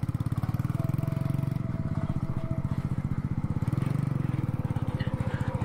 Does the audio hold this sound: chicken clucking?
no